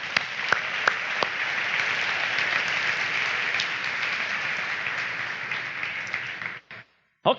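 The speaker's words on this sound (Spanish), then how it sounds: "Dale un aplauso al Señor" A church congregation bursts into loud, sustained applause, many hands clapping together in a dense wash that holds steady for several seconds, then cuts off abruptly.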